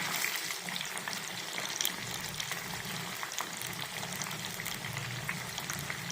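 Fish pakora deep-frying in hot oil gives a steady, dense bubbling hiss throughout, with occasional sharper crackles and no voices.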